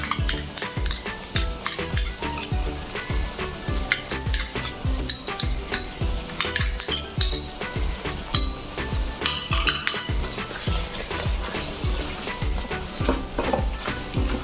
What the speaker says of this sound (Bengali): ভালো করে কষিয়ে নেব তিন মিনিট